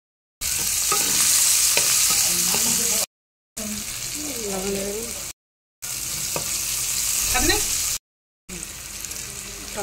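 Onions frying in hot oil with bay leaf, cumin, nigella seeds and green chilies sizzle loudly and steadily, with stirring scrapes across several short cut segments.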